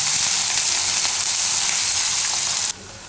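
Chopped onions fry in a hot pan with a loud, steady, crackling sizzle close by, then it drops to a quieter hiss near the end.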